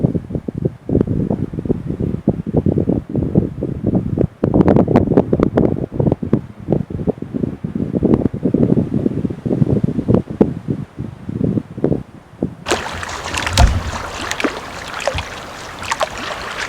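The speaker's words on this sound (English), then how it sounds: "My tarp, it's flying like a flag." A tarp flaps hard in strong wind at a windy camp on Crown land, a busy run of loud irregular snaps and rustles over constant wind noise, with a sudden harsher gust toward the end.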